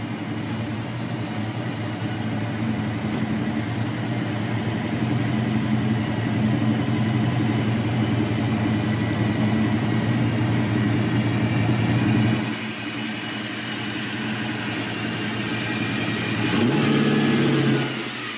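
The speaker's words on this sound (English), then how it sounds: "The engine is a 377 Chevrolet with dual quad carburetor and was painted to match the vehicle" A 1965 Chevy Impala's 377 Chevrolet V8 with dual quad carburetors, rumbling loudly and steadily at close range, dropping off briefly near the end before a sharp rev picks up again.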